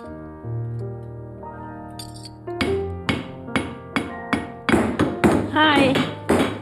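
A hammer forges silver in a smithing shop, giving a steady run of sharp, ringing metallic strikes about twice a second after a short stretch of tonal background music, close and clear.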